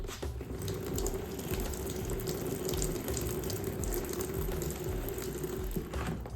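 Water runs steadily from a tap, close and moderately loud, to wet soil for soil blocking, with faint clicky mechanical rattles under the flow and no voices.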